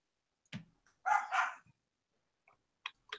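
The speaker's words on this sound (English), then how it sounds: "And a dog barking." A dog gives a few sharp barks and yips, loud and close, spaced with silent gaps and ending in a couple of short faint yelps.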